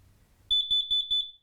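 Four quick, shrill beeps from a carbon monoxide alarm whose test button is pressed, evenly spaced and loud at close range, following a brief low rumble of handling noise.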